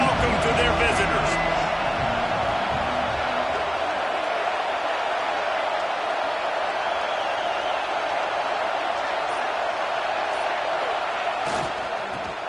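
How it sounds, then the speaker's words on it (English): A home stadium crowd roars a loud welcome for the visiting team before a match, a dense wash of cheering that stays strong and steady throughout, with a few sharper bursts early on. "This crowd bringing an ear-splitting welcome to their visitors."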